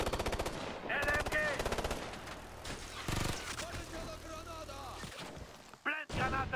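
Bursts of light machine gun fire ring out in a Ghost Recon Future Soldier firefight, rapid rhythmic rattles mixed with other game effects and shouted voices.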